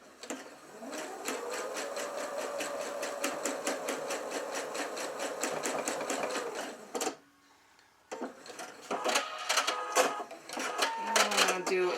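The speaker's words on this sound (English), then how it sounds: "I'm going to sew it right close to the edge so it's stitched on" A sewing machine stitches teddy bear fabric close to the edge in a steady, rapid run, pauses for about a second, then whirs on in bursts, with talking over it.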